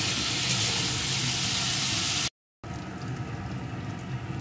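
Food frying in a pan over a high gas flame, giving a dense, steady sizzle and hiss that stops briefly, then goes on a bit softer.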